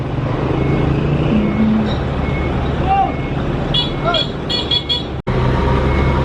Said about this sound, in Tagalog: ayan pangalawang truck na yan